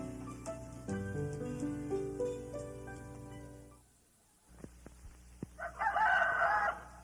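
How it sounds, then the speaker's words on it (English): A farmyard rooster crows loudly over a bright musical backing, followed by a pause, then scattered clucks and a short burst of bird calls. "He's a rooster, and every other chicken in the yard does what he says."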